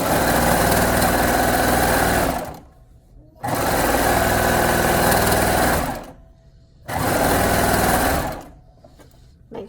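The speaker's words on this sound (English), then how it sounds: "now I'm going to sew my side seams" Sewing machine running in three sustained bursts of stitching along shirt side seams, each lasting about two to three seconds with short quiet pauses between, loud and close with a fast mechanical whir.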